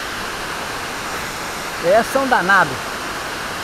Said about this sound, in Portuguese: A Cascata do Moinho aqui.